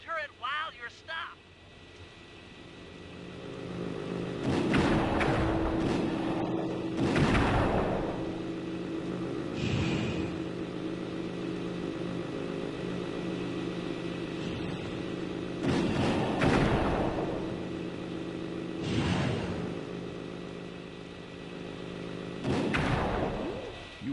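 Turret cannon fire from a vehicle in the video game Sly 2, heavy booming shots at irregular intervals over a steady engine-like drone, with game character voices speaking between and over the blasts.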